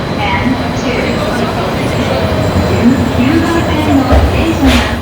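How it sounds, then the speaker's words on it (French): A train sits at a station in Japan, its low steady rumble and hum filling the platform, with people talking nearby over the noise. "Ça, c'est notre train."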